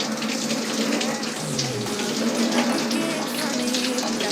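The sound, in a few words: water running while rinsing hair and scalp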